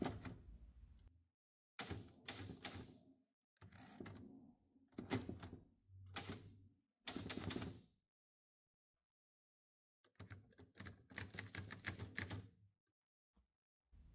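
A 1934 Remington 16 manual typewriter being operated, bursts of crisp key strikes and mechanical clatter in several separate runs with quiet pauses between, close and fairly faint.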